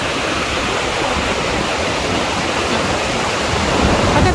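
Very large waterfall in Italy, a steady, loud, full roar of falling water that continues without pause for the whole stretch, with no voices over it.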